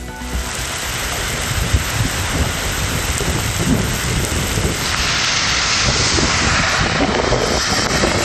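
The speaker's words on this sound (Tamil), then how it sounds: "ஆரணியிலும் வெப்பத்தை தணித்த மழையால் மக்கள் மகிழ்ச்சி" Heavy rain pours down steadily in a dense, continuous hiss with a low rumble underneath, loud and unbroken throughout with no voices.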